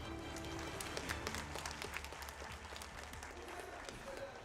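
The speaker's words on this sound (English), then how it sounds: "Alright, crowd is loud." Loud arena crowd noise at an Overwatch esports grand final between Zeta Division and Crazy Raccoon, OWCS Korea playoffs, with a continuous roar, scattered claps and cheers, and a commentator's voice running over it.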